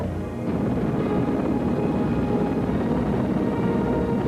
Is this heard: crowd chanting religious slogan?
no